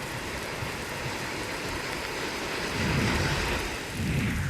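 Heavy, continuous monsoon rain pours down over Mumbai, a steady dense hiss with low thunder rumbles swelling in near the end; no voices.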